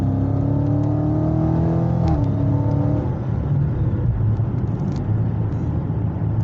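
A muscle car cruises a rural Vermont driving route, its engine droning steadily and loudly, rising in pitch as it revs through a gear change, then settling into a constant road roar with no talk.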